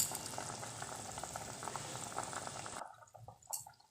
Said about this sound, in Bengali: ওই ঝোলটা আর একটু টেনে গেলে আমরা নামিয়ে নেব।